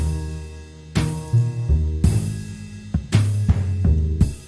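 A jazzy drum loop with upright double bass and piano plays at full level, the kick landing about once a second while the bass and piano sustain between hits without any ducking.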